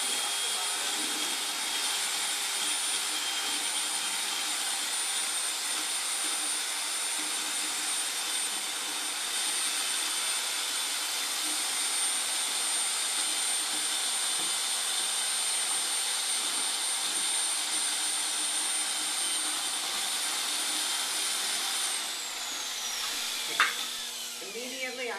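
A mixer stirs ceramic glaze, churning up sediment from the bottom of the container: a loud, steady whirring drone runs unbroken for over twenty seconds, then winds down and ends with a brief clunk.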